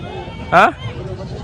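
A goat bleats once, loud and close, with a short wavering cry amid the murmur of a busy Sindh livestock market where goats are sold; a voice is heard briefly.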